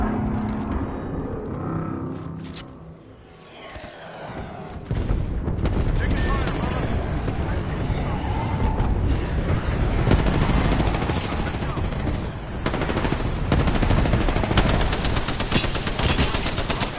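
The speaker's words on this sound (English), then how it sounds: "Calling the airstrike." Airstrike in Apex Legends: a dense barrage of explosive blasts and rapid gunfire-like bursts rolls on loudly for most of the stretch, dipping briefly before surging again with heavy booming impacts.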